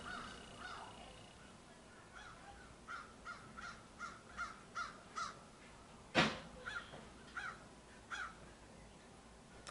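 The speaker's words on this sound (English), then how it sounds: "You hear the damn birds outside." Crows caw outdoors in a run of evenly spaced, moderately distant calls over steady background noise, with one louder harsh caw standing out before a few more trailing calls.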